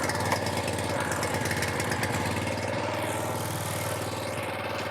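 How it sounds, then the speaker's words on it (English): A Greensmaster golf course greens mower engine idles steadily after starting, a loud, close, even mechanical rattle with a constant pulsing throb that holds level throughout. "to fire up the Greensmaster, you turn the ignition on, hit the choke, and"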